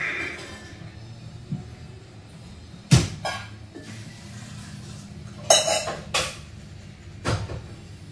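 A pot is handled in a home kitchen while chickpeas are set to boil: scattered metallic clanks and clinks of cookware and utensils over quiet background, with several sharper knocks spaced a few seconds apart.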